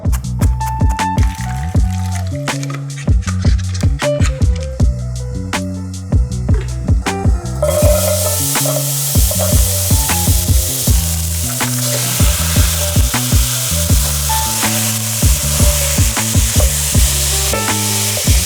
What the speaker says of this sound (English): I cook up the meat and onions with garlic and seasoning